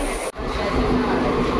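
A passenger train rumbles into Airoli station with a dense, steady roar of wheels and carriage noise, briefly cut off near the start and then continuing loud and close.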